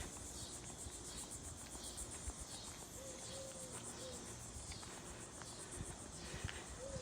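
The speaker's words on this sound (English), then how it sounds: "you can hear the cicadas in the background" Cicadas drone in the background along a lighthouse loop trail, a faint, continuous high-pitched buzzing chorus, with soft occasional chirps over quiet outdoor ambience.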